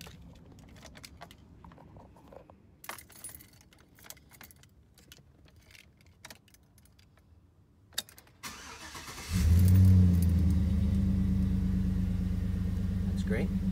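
Keys jangle in the ignition of a 2005 Chevrolet Avalanche truck, then the engine cranks and catches at once, settling into a loud, steady idle close by.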